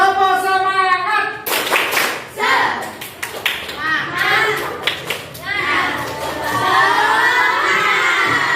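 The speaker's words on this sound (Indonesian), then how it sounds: "Tepuk semangat." A group of children does a rhythmic spirit clap together, with bursts of claps and excited shouting in between, near and lively, at the close of a school activity.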